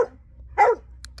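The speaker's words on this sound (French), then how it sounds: "Il y a les chiens qui se chamaillent." Dogs squabbling indoors: a single sharp, loud bark with a growly edge, then brief faint yips, all close by.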